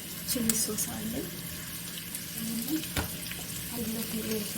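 Chili sauce is added to chicken in a hot frying pan, which keeps up a steady sizzle. A voice talks quietly over it in short bursts, and a sharp clatter of stirring comes near the middle.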